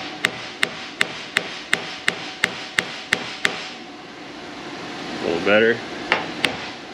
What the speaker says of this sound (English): I want to tap on this till it loosens up.